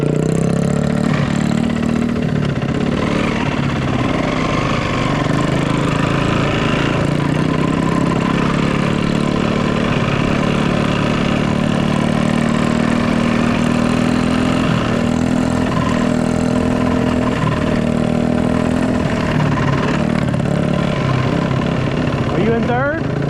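A dirt bike engine, ridden by a kid learning to shift, revs up through the gears with a rising, droning tone that steps as it shifts, loud and close, while people talk over it.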